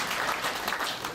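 An audience at a breakfast worship service claps together in a brief, dense patter of applause, steady and moderately loud throughout, with no voices standing out.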